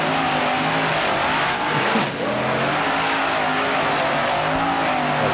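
A 2000-horsepower square-body mega mud truck in BeamNG.drive screams continuously at red line through deep mud, a loud, unbroken high-rpm howl with only one brief dip.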